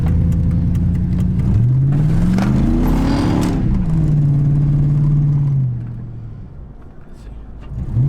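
Truck engine fitted with a cold air intake revving up from inside the cab, pitch climbing and holding a loud whirring drone before easing off, with people talking over it.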